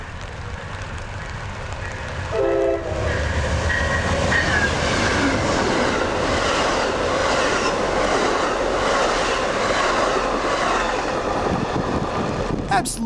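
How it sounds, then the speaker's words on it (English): An Amtrak Southwest Chief passenger train rushes past close by with a steady roar and rhythmic clattering of wheels over the rails, a brief horn-like tone early on. "this fantastic shot of our train flying past"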